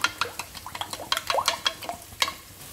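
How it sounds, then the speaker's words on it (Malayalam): Eggs with salt are whisked briskly in a bowl by hand. Quick, sharp clicks and taps of the utensil against the bowl come in an uneven rhythm, close up and clear, with no talking. "മുട്ട കുറച്ച് ഉപ്പിട്ടിട്ട് ഒന്ന് അടിച്ചെടുക്കാം"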